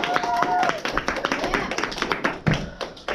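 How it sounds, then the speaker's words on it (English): Audience applause greeting a student presenter introduced as Professor Herrera at a quantum computing talk, a burst of scattered claps and taps over about three seconds, with voices murmuring underneath. "a big round of applause for Professor Herrera"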